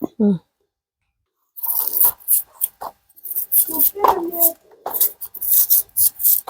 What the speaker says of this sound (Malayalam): ഇനി ചെത്താം